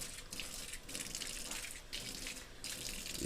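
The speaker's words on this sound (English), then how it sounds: "And then just rinse the sink out." Water runs steadily from a kitchen tap into the sink as it is rinsed out after hand washing pots and pans, a soft continuous splashing hiss, fairly quiet and without talk.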